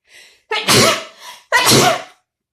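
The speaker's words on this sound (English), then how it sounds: "Ugh, try not to sneeze." Two loud sneezes close to the microphone, each preceded by a sharp inhale, with short gasps between and silence after.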